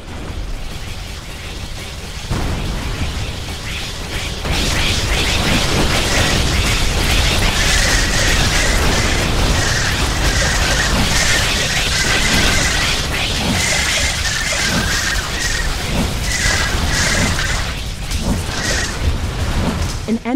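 Buildings collapsing and explosions rumble on in The Riftbreaker, a loud, continuous barrage of booms and crashing debris with a dense roaring bed and no clear gaps.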